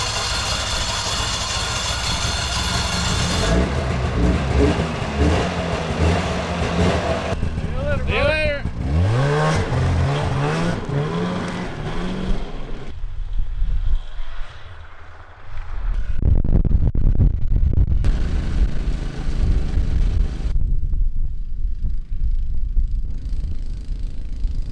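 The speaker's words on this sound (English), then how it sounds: "I just took that little enticer out for a drive." An Enticer snowmobile with rebuilt carburetors is driven, giving a steady engine drone that revs and sweeps in pitch midway, drops away briefly and then returns loud, while voices talk at times.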